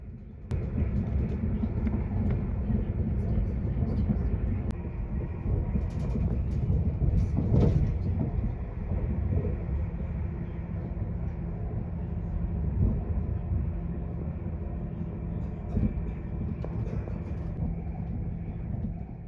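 A steady low rumble of a passenger train rolling along rails from Liverpool to Blackpool, constant and droning, with occasional faint knocks and rattles inside the carriage.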